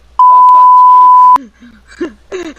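A single long, steady electronic censor bleep, loud and clean, holding one pitch for just over a second, then giving way to casual French conversation.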